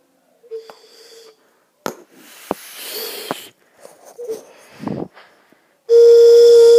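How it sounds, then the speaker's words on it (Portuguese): A steady, piercing whistle tone blasts loudly at the end, after scattered handling noises, taps and a few faint chirps. "aqui tem meu apito"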